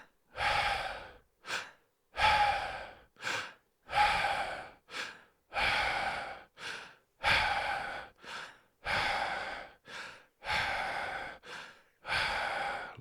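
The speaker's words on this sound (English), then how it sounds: "out through the mouth, in through the mouth, out through the mouth." Deep breathing exercise: slow, deliberate breaths in and out, alternating long airy inhales and shorter exhales in a steady rhythm, close and alone without speech.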